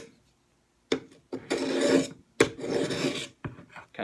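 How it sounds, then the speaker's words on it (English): A knife is drawn across a pre-angled flat diamond sharpening stone in several close, loud rasping strokes separated by short pauses. "kind of sharpen your knife. It's a diamond sharpener"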